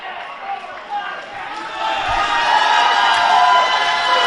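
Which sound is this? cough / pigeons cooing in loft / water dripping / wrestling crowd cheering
wrestling crowd cheering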